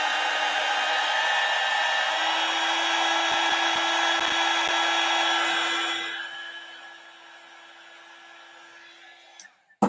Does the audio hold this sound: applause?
no